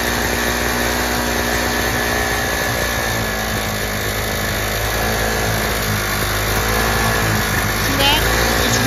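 A Toro single-stage snowblower's small engine runs steadily off choke, a constant close mechanical drone with no pauses, while a voice talks over it.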